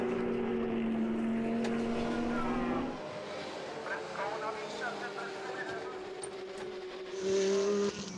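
Race car engines whine past on the pit straight at the Most circuit, slipstreaming, pitch rising and shifting as the cars pass, with a commentator talking over the noise throughout.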